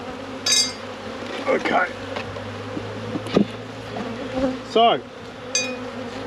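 Honey bees clustered in a hive during a frame inspection hum steadily in the background, while someone speaks briefly and faint clinks and knocks of handling the hive come through.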